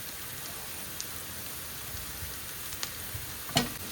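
Potatoes seasoned with salt, turmeric and chili powder fry in oil, giving a soft, steady sizzle with a few faint pops and crackles.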